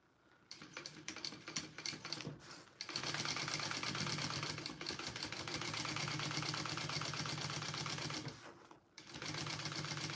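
A sewing machine stitches a tote bag seam in fast, steady bursts of mechanical clatter, pausing briefly between runs, close and clear with no talk over it.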